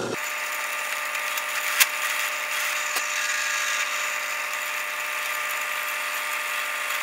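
Power tool cutting a slow bevel into the corner of a wooden base for an automata, a steady high-pitched whine running close and continuous with no talk.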